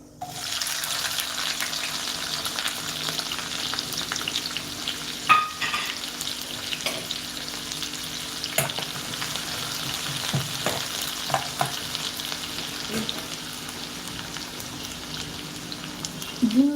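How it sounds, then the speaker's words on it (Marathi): Chopped onion frying in hot oil with popped mustard seeds and cumin for a potato bhaji, a steady close sizzle with scattered crackles and spoon stirring throughout, no talking. "मोहरी छान फुलली की आपण त्यामध्ये जिरं वापरूया त्यानंतर लगेचच कांदा टाकायचा"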